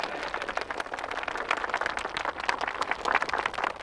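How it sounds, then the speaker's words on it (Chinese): Audience applause at a school assembly: a dense, fairly quiet patter of many hands clapping steadily throughout, with no talking. "让我们用热烈的掌声向他们表示感谢"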